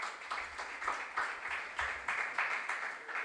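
Audience at a regional junior science and maths quiz contest clapping for a school team: rhythmic, somewhat unison claps in steady pulses, moderately loud and fairly close, with no talking over them.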